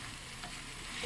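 Frying eggplant is crushed and stirred in a pan, a close, steady sizzle with a brief scrape of the utensil and no speech.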